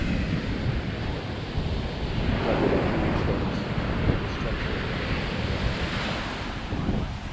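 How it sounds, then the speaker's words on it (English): Ocean waves pound the shore on a hot day, a loud, continuous surf rumble that swells and crashes, mixed with wind buffeting the microphone. "See the waves really pounding though."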